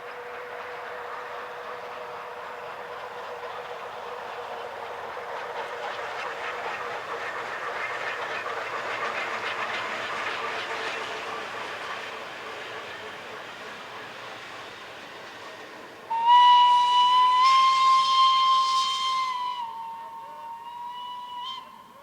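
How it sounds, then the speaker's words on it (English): Shuttle train locomotives 222 and 353 rumble along the line in a long steady roll, then a loud steam whistle sounds for a few seconds near the end and fades back into the train noise. "Another highlight was the pairing of number 222 and 353 on one of the shuttle trains"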